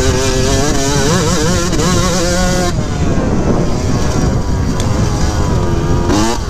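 Yamaha YZ125 two-stroke dirt bike engine on track laps after a carburetor adjustment, loud, close and continuous, with a high buzzing whine rising and falling through revs and gear changes.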